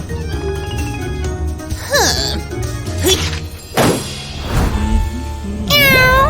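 A cartoon cat meows in a busy animated scene, a few rising and falling mews sounding over music, thumps and bangs.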